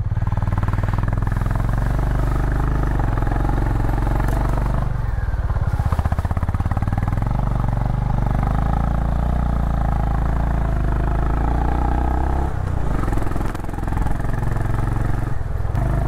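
A heavy Honda motorcycle engine runs as the bike turns on a steep mountain road, a loud continuous close-up rumble that rises and dips slightly with throttle.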